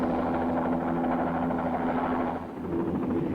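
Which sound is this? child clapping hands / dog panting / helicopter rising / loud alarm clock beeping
helicopter rising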